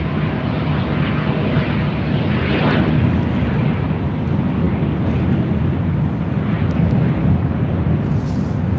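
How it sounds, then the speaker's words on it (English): A heavy Airbus airliner on short final to runway 24 left at LAX produces a steady, loud, broad roar that stays constant throughout, with wind buffeting the microphone. "heavy Airbus, short final"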